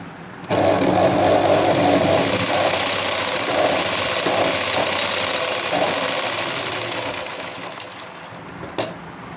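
A sewing machine stitches a blouse seam in a steady, close, loud mechanical whir that runs continuously for several seconds, easing off near the end with a few brief clicks.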